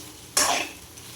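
A single quick stir of dried fish and egg curry in a pan, one sharp scraping swish with a burst of sizzle that quickly dies back to a low simmer.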